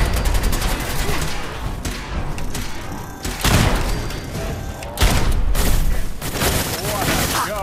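Energy-weapon fire from battling robots in a Fallout 4 Nuka-World arena: dense, loud bursts of crackling shots and thuds follow one another, with a spoken announcer over the action.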